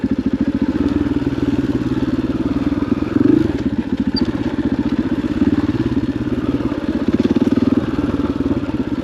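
A dirt bike engine chugs in a fast, pulsing rhythm while climbing trail switchbacks at Stonyford OHV, loud and close, with occasional thumps and a brief rev around the middle.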